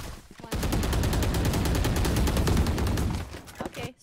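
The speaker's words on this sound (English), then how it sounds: "that's so many shots" Rapid sustained gunfire in the video game Valorant, a dense run of shots lasting a few seconds at steady volume, then a couple of trailing single shots.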